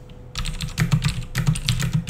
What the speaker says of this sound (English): I like to listen to my videos and listen to the keyboard. I like the sound of it.